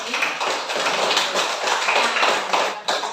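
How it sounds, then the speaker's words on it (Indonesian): A classroom of students claps for a classmate, a dense, steady patter of many hands held evenly for about three seconds, close and fairly loud. "Bagus, tepuk tangan untuk"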